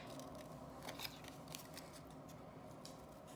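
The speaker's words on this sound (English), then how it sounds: "It does seem quite big, but I'm going to cut it all out." Scissors snip through stamped paper cut-outs for a floral scrapbooking project, giving a quiet, close run of soft, irregular cuts and crisp little crackles with no talking.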